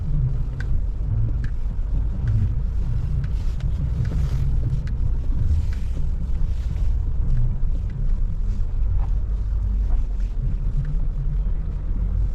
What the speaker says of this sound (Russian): Посмотрим, как едет машина.